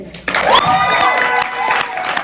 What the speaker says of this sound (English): can we please give another round of applause for my beautiful mother?